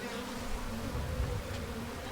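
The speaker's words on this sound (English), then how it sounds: "Oh no! It's full of bees!" Bees buzz loudly from a delivered parcel in the game Sail Forth, a dense, continuous droning hum that swells slightly midway, with no voices.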